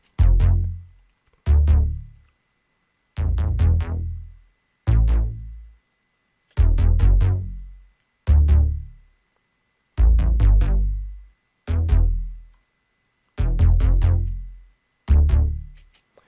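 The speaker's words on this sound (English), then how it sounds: "synth bass, which sounds like this" Deep synth bass from an R&B trap beat plays ten separate notes in a steady, sparse pattern, each a punchy low hit that decays with short silent gaps between them, loud and alone.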